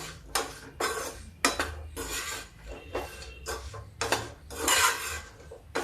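A spoon stirs and scrapes through a jujube (ber) pickle mixture in a pot, repeated close metallic scraping and clinking strokes in an uneven rhythm, with no talking.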